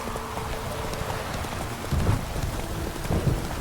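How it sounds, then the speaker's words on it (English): Horse hooves clip-clop in steady rain during a dark, stormy night in The Witcher 3: Hearts of Stone, with heavier thudding steps around two and three seconds and a constant wash of rainfall beneath. "Talk about a dark and stormy night, huh? Not so fast, Roach"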